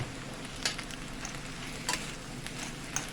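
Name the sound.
dandelion greens stirred into sizzling pot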